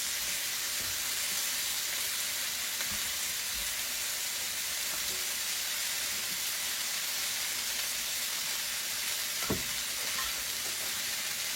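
A pound of washed, patted-dry button mushrooms sautéing in butter in a pan, a steady soft sizzle and hiss throughout with occasional faint clicks of a utensil stirring.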